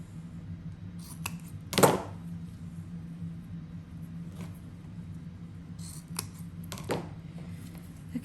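Scissors snip ribbon tails for a bow, a few sharp isolated cuts, one louder near the start and another later, over a faint steady background hum.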